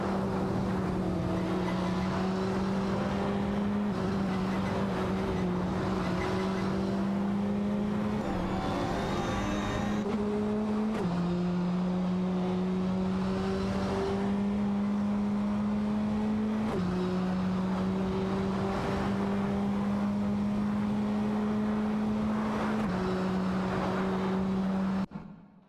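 Race car engines drone steadily through an AI-driven racing video game with career mode, one dominant engine tone shifting pitch every few seconds as cars overtake, loud and continuous with no talk.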